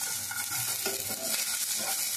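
Curry leaves and peanuts fry in a pan with a close, continuous sizzle and crackle, with no talk.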